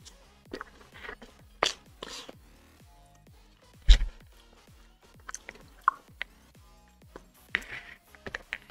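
Crunchy Cheetos corn snacks chewed close to the mouth, a series of sharp, irregular crunches and bites with quiet pauses between them, one especially loud crack partway through.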